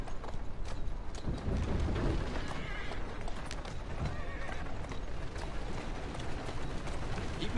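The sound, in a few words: horse hooves walking, from a video game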